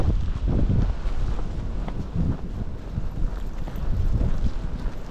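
Strong wind buffets the microphone in continuous low, gusty roars with no other sounds breaking through, during a cold storm with dry snow.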